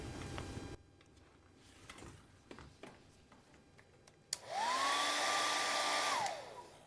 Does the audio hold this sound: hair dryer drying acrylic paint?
yes